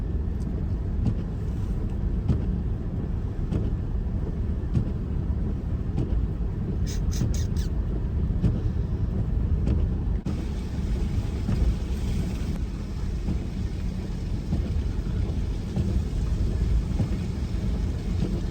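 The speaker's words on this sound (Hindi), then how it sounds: "बिना स्नो चैन के मैं गाड़ी चला रहा हूँ, थोड़ा सा हवा कम करके मस्त चल रही है" Suzuki WagonR pushing through deep snow in Zanskar without snow chains, tires running at reduced pressure: a steady low engine and road rumble fills the cabin throughout, with faint clicks and rattles on top.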